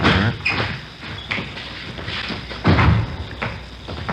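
Door being closed in a radio drama scene, heard as a couple of dull thumps with a louder thud near the end, over a quiet room background.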